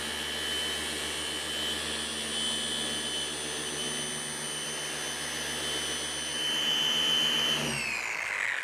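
A polishing machine buffing car paint gives a steady, loud motor whine with a high tonal hum that runs close and unbroken, then winds down near the end.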